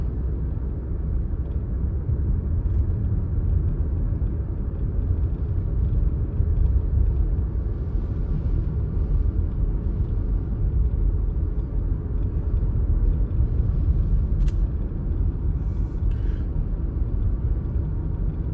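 Steady low engine and road rumble from inside a car cruising through a neighbourhood in the aftermath of Hurricane Milton, continuous and even throughout, with a couple of faint brief squeaks and no talking.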